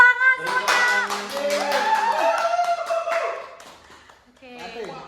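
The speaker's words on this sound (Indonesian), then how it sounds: "Beri tepuk tangan semuanya" Scattered hand clapping from a small group at a community health education session, a quick burst of claps mixed with overlapping voices and laughter, then a pause and more talk.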